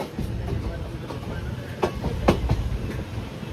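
Chamarajanagar–Mysuru–Tirupati Express pulling out of Pandavapura station, a steady low rumble of the moving train with a couple of brief metallic clanks near the end, no voices.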